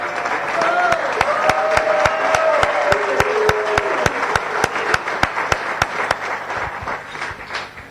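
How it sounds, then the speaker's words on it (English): A room full of Rotary Club members at a weekly meeting applauds the First Lady President, steady dense clapping lasting throughout with some crowd murmur and a voice underneath. "so we could just give her a round of applause"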